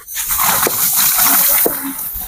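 Soaked rice tipped into a big pot of simmering water for a village meal for a hundred people, giving a brief watery gush and splash with a couple of sharp knocks against the pot.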